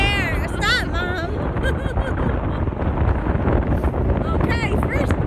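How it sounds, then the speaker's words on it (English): Strong wind buffets the microphone at a seaside boardwalk by the ocean, a constant loud roar throughout with voices talking over it. "It's really windy."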